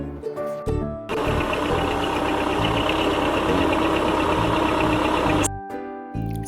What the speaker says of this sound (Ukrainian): Саме так це трактор.